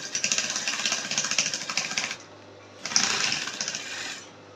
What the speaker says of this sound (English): So when you are stitching,